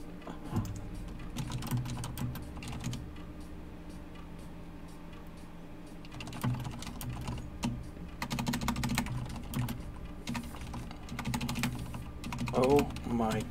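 Steady typing clatters on a Corsair Strafe RGB computer keyboard in irregular bursts of rapid keystrokes with brief pauses, close and moderately loud, with faint voice sounds in the background.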